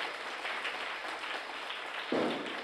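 A church congregation applauds to thank the village organizers at a feast-day Mass for St. Ignatius in Sathampatti, steady broadband clapping throughout with a sharper burst near the end.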